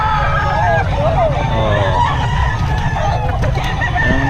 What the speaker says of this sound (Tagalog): may inahin mga kabiyahe